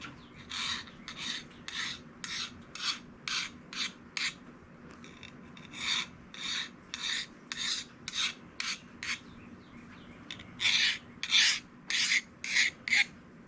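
A file rasps along a Solingen knife blade to remove the burr, in about twenty short, even strokes with brief pauses between them. The strokes are close and fairly quiet over faint background rain.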